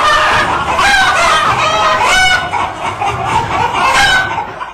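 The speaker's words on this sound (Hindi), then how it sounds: "मुर्गे में ऐसा है क्या?" A rooster crows loudly and close by in drawn-out calls, with clucking fowl mixed in around it.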